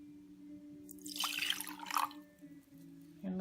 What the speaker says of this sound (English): Let's pour it into our cup.